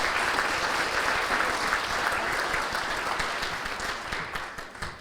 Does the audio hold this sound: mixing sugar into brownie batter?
no